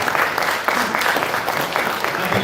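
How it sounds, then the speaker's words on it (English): A conference audience claps steadily throughout, a dense, even wash of applause with no break. "Everybody, please, another round of applause for Professor Zhou."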